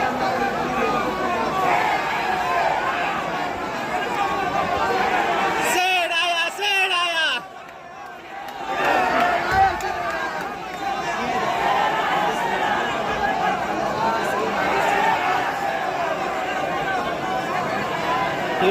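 A large crowd gathered for Prashant Kishor at Gandhi Maidan, a loud steady wash of chatter and murmuring voices, briefly dropping before swelling again, close and continuous.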